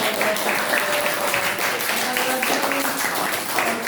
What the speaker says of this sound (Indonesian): Yuk kita beri tepuk tangan, aplaus yang meriah.